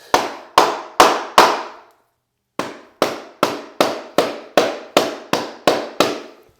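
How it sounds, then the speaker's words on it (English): Sharp hammer taps on laminate flooring being locked into place ring out close and loud: four quick blows, a pause, then a steady run of about ten evenly spaced strikes. "I'm going to tap that one a little bit just to kind of lock it down."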